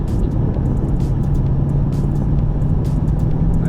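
A 2021 Ford Mustang GT V8 pulls in second gear from about 35 mph, a steady loud engine drone with a slowly rising tone under road and wind noise, no talking.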